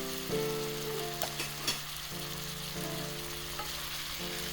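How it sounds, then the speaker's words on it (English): Steady, loud sizzling of pork ribs frying in hot oil, with a few scrapes and clatters of stirring in the pan. "When the oil is hot, add pork ribs in the pan."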